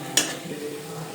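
Onions sauté in a pan for biryani, with one quick scrape of a spoon followed by a soft, low sizzle.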